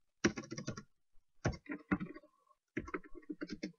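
Computer keyboard being typed on nearby, quick bursts of clicking keystrokes separated by short pauses, in an otherwise quiet room with no talk.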